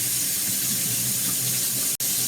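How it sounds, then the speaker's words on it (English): Very hot, near-boiling water runs steadily from a sink tap, a loud continuous broadband rush with a brief break near the end, used to rinse a piece of wood for a hamster. "I'm gonna run this into like boiling hot water."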